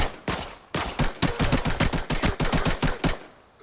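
Rapid bursts of automatic gunfire from the video game Arena Breakout, loud and close, with about a dozen sharp shots in uneven rhythm and no talk.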